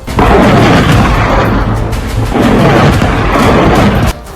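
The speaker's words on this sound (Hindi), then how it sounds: "एयर डिफेंस से छोड़ी गई मिसाइलों और तोप से दागे गए गोलों की आवाज से पूरा इलाका गूंज उठा" Turkish air defense missile launches and artillery fire rumble across the area at night as a continuous loud roaring, booming din with overlapping blasts and no break.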